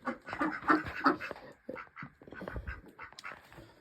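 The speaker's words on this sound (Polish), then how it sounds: "Kaczki, gęsi, kury." Busy farmyard chatter of quacking ducks, including Old Polish and Muscovy ducks, honking geese and clucking hens, close and overlapping in irregular bursts.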